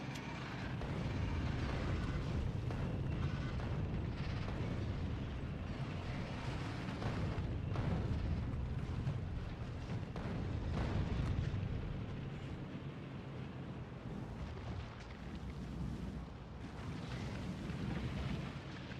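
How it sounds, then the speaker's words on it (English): Flamer turrets lobbing flame in Factorio's Space Age on Gleba, a continuous roaring, rumbling whoosh that swells and dips for the whole stretch, steady and fairly loud with no voices. "The flamer turrets are lobbing flame at me as well."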